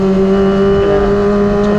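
A Kawasaki ZX25R four-cylinder motorcycle fitted with an Ayam Geprek aftermarket exhaust holds a loud, steady, high-pitched engine note with a smooth, buzzing tone, close by and alone.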